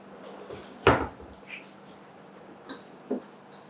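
A kitchen utility drawer in a remodelled Nigerian kitchen slides and bumps shut with a sharp close, followed by a couple of lighter knocks and a brief clink, recorded close up without talk.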